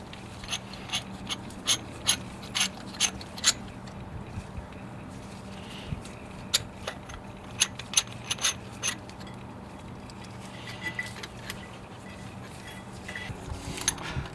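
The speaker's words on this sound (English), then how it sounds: "Caliper rewind tool. We use this to be able to move the caliper back so we can fit the new pads in." A caliper rewind tool pushing back the piston of a VW Passat front brake caliper during a pad change, giving a run of sharp mechanical clicks and ratcheting snaps at irregular intervals over a low background hum, with no talking.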